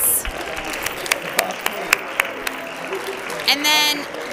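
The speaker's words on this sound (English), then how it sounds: "let's give everybody a big round of applause" Sparse, scattered claps from a school assembly audience, a few distinct hand claps spaced over several seconds with crowd murmur and voices underneath, ending in a brief louder burst.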